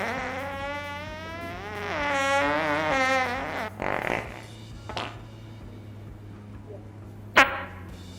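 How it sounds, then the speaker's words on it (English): A long, wet-sounding fart in a film scene, a drawn-out wavering buzz that rises and falls for several seconds before a few shorter sputters and one sharp final pop, close and loud over a low hum. "Was that a fart?"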